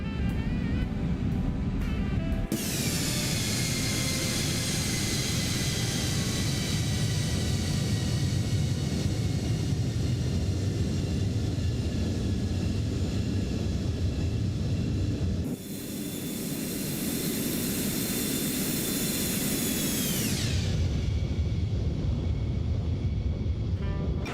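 The jet engines of an X-Crafts Lineage 10 business jet run in X-Plane 12. The steady turbine roar and high whine swell loudly after a short quiet start, ease off briefly, then rise and whine back down.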